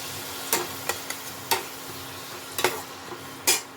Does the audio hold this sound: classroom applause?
no